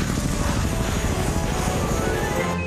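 A loud, steady roar of a rocket-powered helicopter passes close by, a dense rumbling drone that holds constant before easing slightly at the end.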